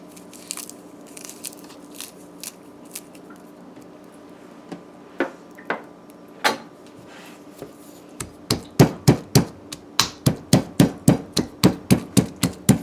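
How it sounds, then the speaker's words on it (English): Garlic, broadleaf thyme and pepper are pounded in a mortar, starting as scattered light knocks and building into a steady run of sharp, crunching thuds. "we're gonna pound our garlic and so on in our mortar for our cassava ball"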